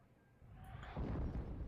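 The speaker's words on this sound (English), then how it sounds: "so let's go ahead and use our artillery on him." Artillery bombardment in the wargame Steel Division 2, heard as a distant low rumbling blast that swells after a quiet start and rolls on as a muffled, sustained boom.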